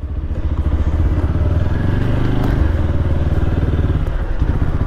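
A motorcycle engine running close by with a steady throbbing, rumbling putter that holds fairly loud and even throughout, with no voices over it.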